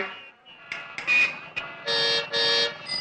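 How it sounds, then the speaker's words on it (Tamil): A car horn honks repeatedly in loud, uneven bursts, with two long blasts near the end, set in a street scene from a Tamil film. "எவ்வளவு நேரமா ஹார்ன் அடிச்சுட்டு இருக்க"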